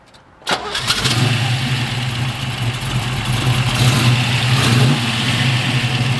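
A 1969 Chevrolet Camaro Z28 V8 engine cranks briefly and catches, then roars into a loud, rough idle that swells with revving, close by.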